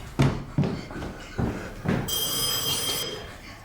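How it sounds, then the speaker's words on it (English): A telephone starts ringing at home with a bright, sustained electronic trill partway through, following several dull knocks or taps, close and moderately loud, no speech over it. "Oh, that's the phone, never mind."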